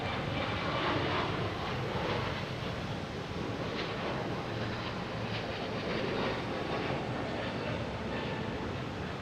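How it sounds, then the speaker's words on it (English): A Delta Airbus A321neo airliner on a flight at Boston Logan International Airport gives a steady, loud, broadband jet roar that holds evenly throughout with no voices. "we have Delta, flight 859, I believe it is, and A321 Neo"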